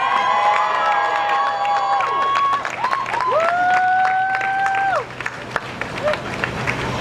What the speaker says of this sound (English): Let's give him a big round of applause, you guys.